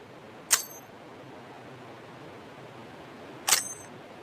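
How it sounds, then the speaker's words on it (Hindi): Two short, sharp metallic clicks of a grenade pin being pulled in PUBG Mobile, about three seconds apart, over a quiet hiss. "तो जब नेड का पिन खींचता है तो कुछ ऐसी आवाज आती है।"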